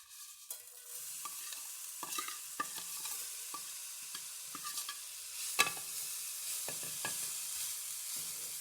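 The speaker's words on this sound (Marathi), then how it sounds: "साखर विरघळेपर्यंत अगदी मंद आचेवर हे असं सारखं हलवत राहायचं" A spoon stirs a rose petal and sugar mixture in a pan over very low heat, making soft scraping strokes at an irregular rhythm against a faint, steady sizzle, close up and with no talking.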